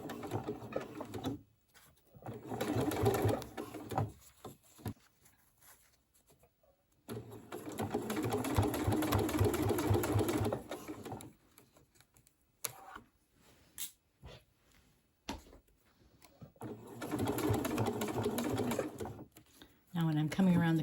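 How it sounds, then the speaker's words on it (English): A sewing machine back-stitches a wallet in short bursts of steady rapid mechanical whirring, separated by pauses while someone talks. "I'm going to hold my tail end here because if I don't, it always pulls it in. And I'm going to back stitch."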